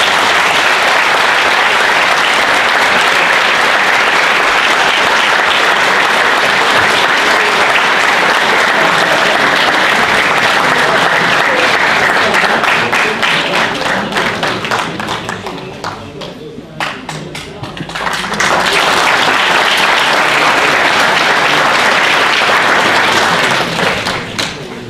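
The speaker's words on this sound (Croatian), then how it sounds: "Pozdravimo još jednim velikim aplauzom naše guslare i hvala im na uloženom trudu." Audience at a commemorative gathering applauding gusle players, a long, loud, dense wash of clapping that thins briefly midway and then swells again to full strength.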